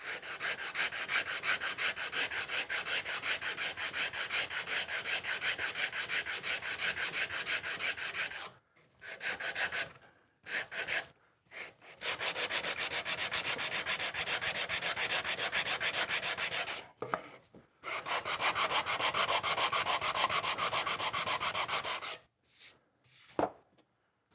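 A wooden guitar fretboard being sanded to a compound radius on a Stratocaster build: long, steady rasping strokes of sandpaper on wood, close and continuous, broken by a few brief pauses.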